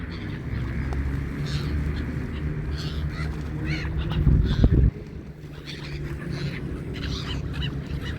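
Outdoor riverside ambience on the Dnipro with scattered bird calls and a brief louder flurry of splashing and squawking as gulls and ducks fight over food, over steady wind and low rumble.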